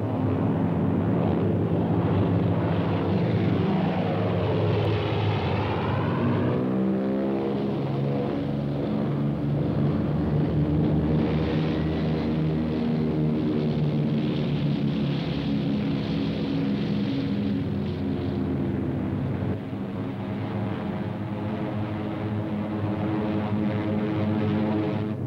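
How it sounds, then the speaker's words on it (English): Japanese bomber aircraft drone steadily overhead, a loud continuous propeller engine roar that holds for the whole stretch with slight shifts in pitch as the planes pass. "they would send their bombers to blast it from the face of the earth"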